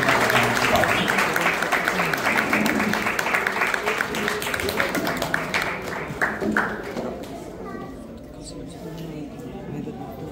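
An audience applauds as a guest is welcomed onto the stage at a podcast session, with dense crowd clapping and some chatter that gradually thins out and fades near the end.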